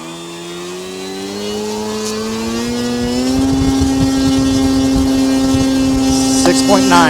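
Electric motor and propeller of an FMS 1400mm Pitts RC plane in a thrust test, a whining tone climbing steadily in pitch and loudness as throttle is brought up, with people talking briefly.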